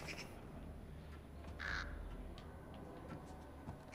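A bird caws once in the Thief video game, a short harsh call rising briefly above a steady low ambient background on the rooftops.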